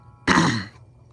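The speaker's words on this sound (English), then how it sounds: "I apologize for clearing my throat a lot" A single harsh throat clearing erupts close to the mic, lasting about half a second before fading into quiet room tone.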